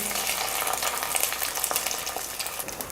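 Fried cashews and raisins stirred into sweet pongal on the stove produce a continuous close sizzle with soft stirring scrapes, no voices.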